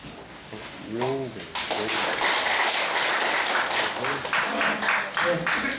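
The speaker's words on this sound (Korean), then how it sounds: "박수입니다" Audience applause for a lecturer at an election law talk, a room full of people clapping in a dense, sustained wash, with voices speaking over it.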